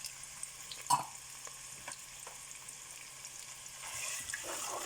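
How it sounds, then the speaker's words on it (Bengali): Onions and garlic frying in hot oil in a pan, a soft low sizzle with a brief clatter near the start and a slightly stronger hiss toward the end. "আমার তেল গরম হয়ে গেছে, আমি পেঁয়াজ দিলাম।"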